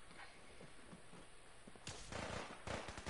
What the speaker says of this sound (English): What is shooting?